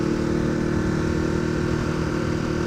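Ducati Hypermotard motorcycle engine while riding on a road in traffic, a steady throbbing mid-range drone at cruising speed, close and continuous throughout.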